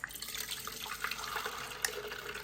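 Fresh almond milk pours from the open spout of a Nama M1 nut milk maker, a steady liquid trickle and splash running continuously at close range with no talking.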